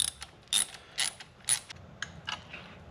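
Original bolts with nylock nuts are fastened onto a tracked minibike, giving a quiet run of sharp ratcheting clicks in short bursts, close by and alone.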